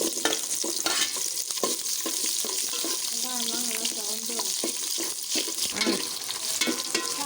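Fenugreek seeds and onions frying in oil in a pan, with a steady close sizzle and repeated stirring scrapes; a faint voice briefly rises under the frying midway.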